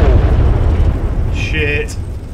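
A bomb dropped in a helicopter attack in the ARMA III video game bursts with a loud, close, deep rumbling boom. The blast fills the whole moment, and brief higher ringing tones cut through near the end.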